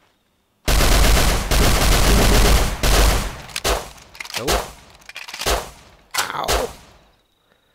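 Pistol gunfire in the survival game Rust, starting with a long loud stretch of shots, then several separate bursts that fade out, with a brief pained exclamation.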